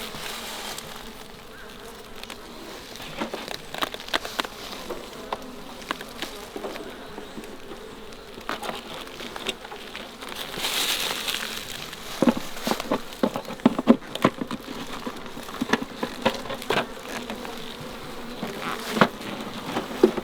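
Honey bees buzzing steadily as they are moved from swarm traps into hive boxes outdoors, a dense insect hum with individual bees zipping close by, and a few faint handling noises underneath.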